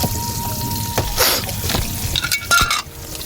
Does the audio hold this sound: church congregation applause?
no